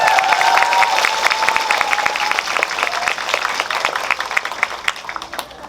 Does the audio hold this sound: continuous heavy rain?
no